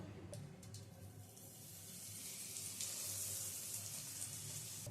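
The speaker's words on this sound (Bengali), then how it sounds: "এবারে এটা একটা করে তেলে দেব" Batter-dipped banana flower cutlets go one at a time into hot oil, making a soft, steady frying sizzle and hiss that grows slightly over several seconds.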